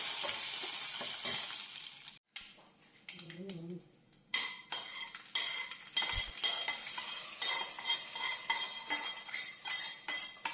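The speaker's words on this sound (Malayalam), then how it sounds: "അതിനകത്ത് ഇളക്കി നമുക്ക് കറിയിലേക്ക് ഒഴിച്ചാൽ മതി" A curry leaf and dried red chilli tempering is stirred and tipped into a pot of erissery curry: loud sizzling hiss, a brief near-silent pause, then a run of rapid spoon and pan clinks against a steady frying background.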